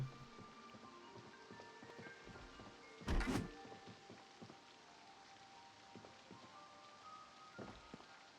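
A zombie in Project Zomboid bangs on a door elsewhere in the building, one dull muffled burst of knocking midway through. Scattered faint ticks and taps fill the rest over a quiet hum.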